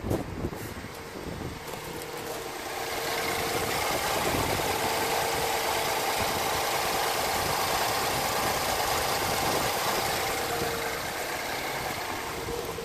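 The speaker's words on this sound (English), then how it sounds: "Okay, so the engine runs, I would say, pretty much fairly okay." A BMW E90 320i engine, said to idle roughly, runs steadily up close, a continuous mid-pitched hum with faint knocking texture and some wind-like noise, slightly louder after the first few seconds, with no talking.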